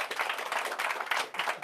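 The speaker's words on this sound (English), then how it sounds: "Give her a round of applause for being assistant." An audience applauds an assistant at a mentalism magic show, a short burst of dense clapping, fairly faint and brief.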